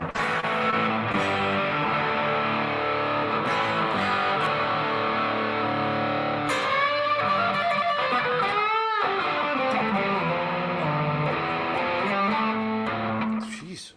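A distorted electric guitar with stacked Dutchman and Vermin pickups plays sustained, buzzing chords and notes with bends, loud and continuous throughout.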